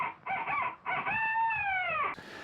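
A rooster crows once in a long, drawn-out call after a few short clucking notes, clear and fairly close.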